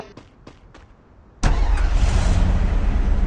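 A car engine in the Free Fire video game starts abruptly after a few soft clicks, then runs as a loud, steady, close drone for the rest of the moment, with no talking.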